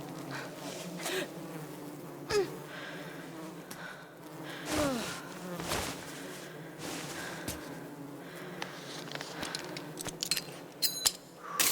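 Bees buzz around a hive in the climbing survival game Cairn: Survival Climbing, a steady insect drone with scattered clicks and rustles over about twelve seconds.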